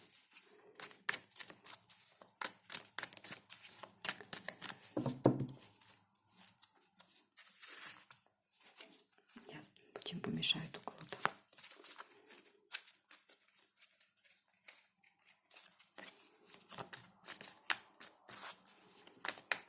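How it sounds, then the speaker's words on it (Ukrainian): Tarot cards are shuffled steadily and close by, with rapid papery flicks and riffles and a few louder slaps, continuing throughout without speech. "треба гарно перемішати, бо це серйозні такі речі, знаєте, я готую завжди карти, перемішую добре"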